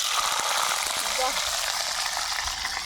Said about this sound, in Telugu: ఇదిగోని బాగా వేగాలి బాగా వాడాలి